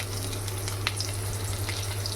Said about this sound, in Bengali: আর এই যে এর মধ্যে আমি দিয়ে দিচ্ছি রসুন কুচি।